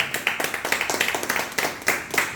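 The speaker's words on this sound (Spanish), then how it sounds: "A su nombre, den un fuerte aplauso a Jesucristo, por favor." A congregation at a Christian baptism service claps in a quick, steady rhythm, sharp bright claps repeating several times per second, fairly close and lively.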